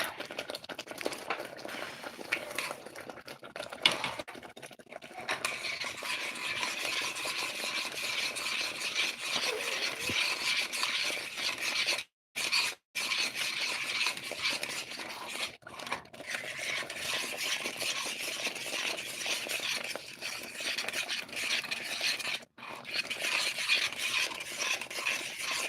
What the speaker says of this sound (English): you gotta really stir the rice